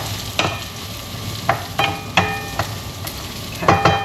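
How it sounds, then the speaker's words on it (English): Orzo stirred in a sizzling pan for a salmon and orzo dish, a spoon scraping in several separate strokes over a steady close frying sizzle, with no talking. "Let's give this a stir over here."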